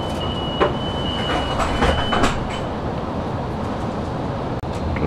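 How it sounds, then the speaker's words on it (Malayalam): A train runs past a station near Ballymote in Ireland, giving a steady loud rumble with rattling wheels, faint clicks and a brief high tone, and no voices. "ട്രെയിൻ ഇപ്പോൾ ആക്ച്വലി ബാലിമാഫി സ്റ്റേഷൻ കഴിഞ്ഞ് മുന്നോട്ട് പോവുകയാണ്"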